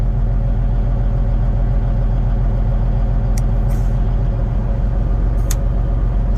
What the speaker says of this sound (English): when I engage it, it actually does work. And you can hear the motor bog. You can hear it load up.